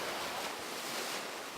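Sea waves at a sunny beach wash in a steady, broad hiss of surf, moderately distant with no talk.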